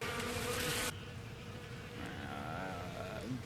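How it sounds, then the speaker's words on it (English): Loud, steady buzzing of swarming bees or hornets in an anime fight scene, a continuous droning hum with wavering pitch as the insects move, filling the whole moment without any talk. "Freaking bees?"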